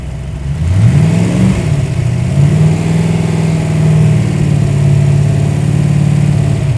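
A freshly rebuilt car engine, just pressure oiled, runs cold at a steady low hum, with a brief rise in revs early on before settling into an even, loud idle close to the microphone.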